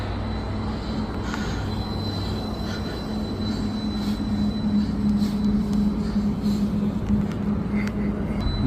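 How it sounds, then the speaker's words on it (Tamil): A train rolls past at a moderate distance with a steady rumble and a faint high metallic wheel squeal, building slightly louder toward the end. "ட்ரெயின் போகுது பாருங்க, ட்ரெயின் போகுது"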